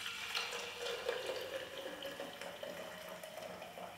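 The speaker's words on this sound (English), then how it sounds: "So we take our hot water and we pour" Hot water pours steadily into a cafetiere of coffee with a continuous splashing, filling sound whose pitch rises gradually, close and moderately quiet.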